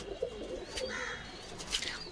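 Pigeons cooing softly at a home pigeon loft, with a few chirpy calls and faint rustling, fairly quiet and steady throughout with no talking.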